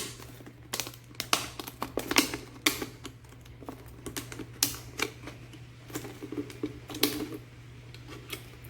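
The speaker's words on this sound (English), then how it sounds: "I cut as close up to the top of the bottle as I can, just like that, and then I cut around." Scissors snip and crinkle around the top of a plastic bottle in a run of irregular sharp clicks and crackles over a low steady hum, close by.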